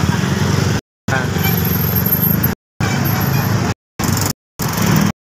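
Heavy road traffic near an airport: a steady, close rush of cars and motorcycles passing, broken by short gaps of silence.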